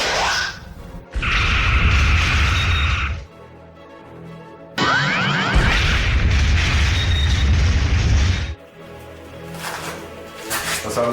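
Starship weapons fire and explosions in a Star Trek fan film battle with Klingons: two long, loud roaring barrages with booming blasts and whooshes, separated by a brief lull and ending in a lower rumble.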